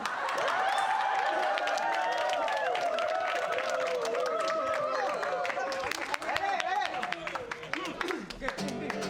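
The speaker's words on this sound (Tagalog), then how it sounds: "Palakpak!" An audience claps and cheers steadily for the Gym Santos Boys at the grand reopening of Gym Santos, a dense wash of applause with shouting voices on top throughout.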